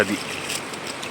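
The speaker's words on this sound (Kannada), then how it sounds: "ನದಿ ನೀರು." Steady rushing water fills the short stretch, a broad even wash with no breaks, a river flowing close by at Kamalashile, Udupi.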